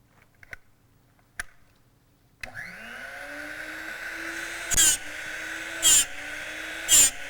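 A Drill Doctor 250 drill bit sharpener runs at full speed with a steady motor whine that starts abruptly after a few faint clicks, with three short bright grinding bursts as a bit is worked against the wheel.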